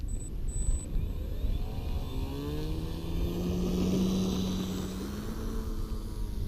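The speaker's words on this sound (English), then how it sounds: "Takes off like a dream." An E-Flite Timber X RC plane taking off with half flaps, its electric motor holding a steady buzzing whine that rises in pitch and swells louder before easing slightly, with light wind noise around it.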